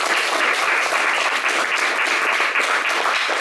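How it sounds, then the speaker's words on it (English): Audience applause after a philosophy talk, a dense, steady wash of clapping from a crowd that stays loud and even throughout, without talk. "Can we have another round of applause?"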